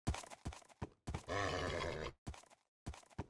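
A Minecraft horse in Bedrock edition with RTX groans and snorts in short bursts, followed by a long drawn-out whinny, close and fairly loud.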